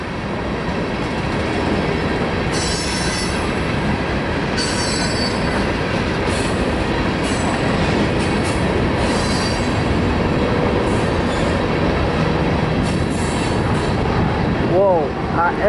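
Norfolk Southern freight train, a stack and manifest consist led by AC44C6M locomotive 4059 with a mid-train DPU, rolls steadily past close by in El Paso, wheels rumbling continuously with brief squeals near the end.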